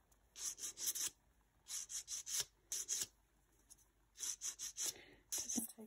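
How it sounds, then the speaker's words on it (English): A polymer clay block for buttons is sanded smooth by hand: close, steady rasping strokes in quick clusters of four or five, broken by short pauses, with no voices. "So I just sand it around here, just so we can get it nice and smooth."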